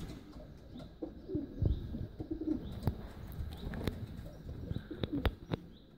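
Racing pigeons coo softly and repeatedly inside a breeding aviary and widower loft, with scattered chirps and light wing or foot movements over a steady low background.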